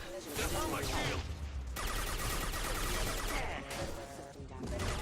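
Rapid automatic bursts from the Locust submachine gun in the Mass Effect 2 sci-fi shooter game crackle loudly and almost continuously, with brief gaps between bursts and faint talk underneath.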